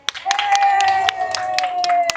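A group clapping hands together at a children's lollipop challenge game, a few sharp claps standing out over a steady, bright sustained tone and busy background.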